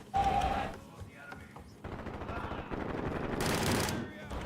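M4 rifle fire in the Call of Duty video game crackles in rapid automatic bursts, loud and close, over roughly four seconds, with a person talking over the shooting.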